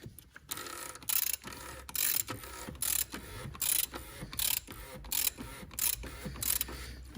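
A ratchet tightening the oil drain plug on a BMW 328d F30 diesel, rapid clicking in repeated short bursts with brief pauses between strokes, close and crisp, with no talking.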